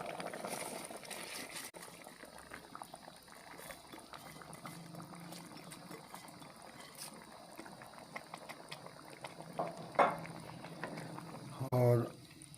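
A pot of water boils on the stove for chicken white pulao, with a soft, continuous bubbling hiss, a few sharper clinks and a brief splash near the end as rice goes in.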